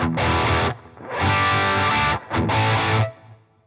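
Distorted electric guitar played through a Bogren Digital amp plugin with delay and reverb, three loud sustained chord bursts separated by short gaps, with ringing tails trailing off at the end.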